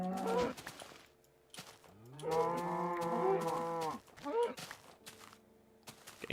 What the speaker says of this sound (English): Cows, you're kind of getting annoying right now